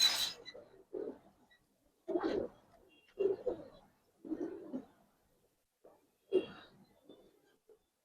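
Silver Giribaz pigeons coo in a series of soft, low bursts spaced a second or so apart, close by with brief pauses between calls.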